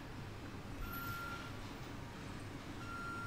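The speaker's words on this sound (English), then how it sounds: "It's like builders and reversing trucks and stuff." Faint steady reversing beeps from construction trucks in a Planet Coaster park, a thin repeating tone sitting low under a continuous wash of ambient noise.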